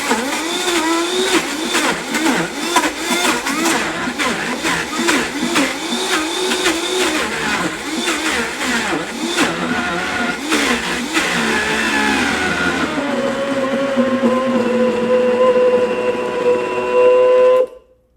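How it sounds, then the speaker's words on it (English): A Vitamix blender whips frozen bananas into nice cream, a loud, steady motor roar with churning, bumping pulses as the thick mixture turns over, then the pitch rises to a smoother whine and cuts off at the end. "maybe some of you are watching that and you've never seen ice cream made in the Vitamix"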